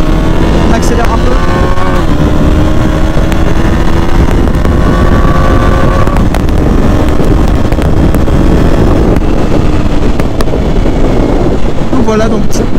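A 2019 KTM Duke 125 motorcycle accelerates, its engine droning loud and close with rising whine through gear changes, heavy wind buffeting throughout.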